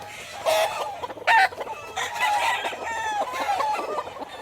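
Chickens cluck busily at a Georgia chicken farm in summer, with a rooster crowing and several birds calling over one another at close range.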